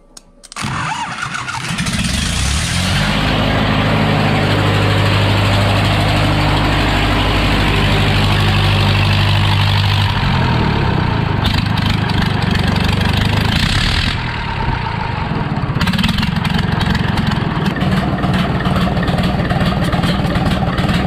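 A Lublin van engine, fitted with a replacement injection pump and its throttle tied open, cranks and catches, then runs loud and steady at high revs throughout, with some mechanical rattle near the microphone.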